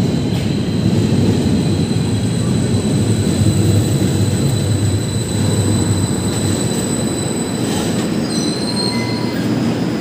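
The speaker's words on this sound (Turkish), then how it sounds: "Fahrettin Altay yönüne gelen metro aracı" An İzmir Metro train arriving toward Fahrettin Altay rumbles loudly and continuously nearby, with a high steady whine and occasional metallic squeals over the deep rolling noise.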